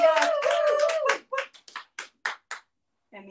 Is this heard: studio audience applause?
yes